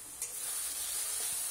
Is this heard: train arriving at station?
no